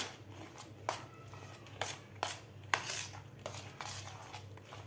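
A spoon stirs grated jaggery into mango pulp in a bowl, giving soft scraping and intermittent light clinks against the dish, a handful of sharper taps spaced irregularly, close and quiet.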